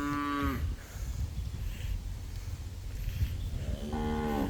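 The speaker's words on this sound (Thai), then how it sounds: "วัวก็จะเดินกินไปเรื่อยนะครับ" Cattle low and moo while grazing on a Thai beef farm, a mother cow with her Beef Master cross calf nearby; two drawn-out moos open and close the stretch, with steady outdoor rumble between them and no talk.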